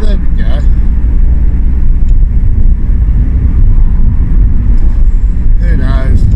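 Car driving along a road, a constant loud rumble of engine and road noise with wind buffeting the microphone throughout, while a person talks briefly at the start and again near the end.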